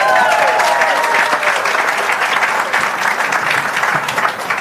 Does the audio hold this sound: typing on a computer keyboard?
no